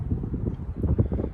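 Wind buffets a microphone on a bridge beside a river, a continuous low rumbling gusty roar that fills the whole moment without pause.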